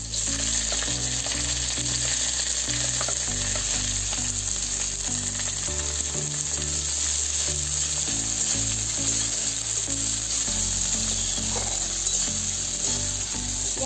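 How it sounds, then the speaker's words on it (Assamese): Onions fry with green chilies in hot oil in a wok for a dry fish chutney, a loud, continuous sizzle with occasional stirring scrapes over a low, shifting electric hum. "এতিয়া মই পিঁয়াজখিনি দিম"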